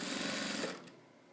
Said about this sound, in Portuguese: vou começar a costurar aqui